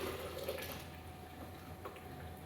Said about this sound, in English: So carefully pour it back in your blender.